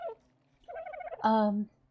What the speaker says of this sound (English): Yeah, those are the dodos behind me.